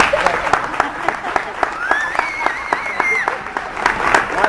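An audience in a gym at a youth basketball skills clinic claps and cheers for the coaches, steady applause with a whistle-like cheer rising over it, fairly close and full.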